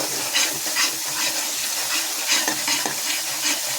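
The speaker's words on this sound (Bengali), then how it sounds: "এবার সম্পূর্ণ মশলাটা কষাবো।" Spice paste with ginger paste and coriander leaves being stir-fried, a dense bright sizzle pulsing with steady rhythmic stirring strokes, close and fairly loud, no speech.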